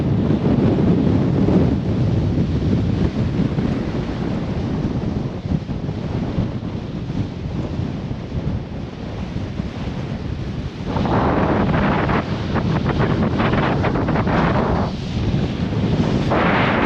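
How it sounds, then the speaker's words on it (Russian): Strong mountain wind on Tenerife near the summit roars steadily into the microphone, buffeting loudly throughout with gusty surges in the second half. "Ветер настолько сильный, что просто с ног сдувает."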